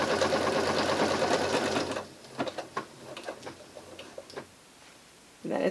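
A sewing machine stitches a buttonhole with a dense, rapid stitching clatter. It then slows into scattered ticks and clicks, goes briefly quiet, and starts up again at the end.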